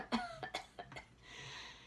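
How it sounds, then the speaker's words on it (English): A reader voices a character coughing several times during audiobook narration: about four quick, close coughs in a row, followed by a soft breathy exhale. "Bess opened her eyes and coughed several times."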